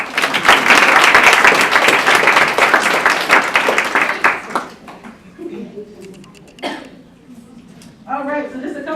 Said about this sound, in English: Hand clap, please.